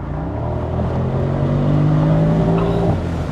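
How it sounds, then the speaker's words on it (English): A Maybach SL 680 with a twin-turbo V8 accelerates hard, its engine note a dense, rising roar heard from inside the car, loud and steady without speech. "Twin turbo V8."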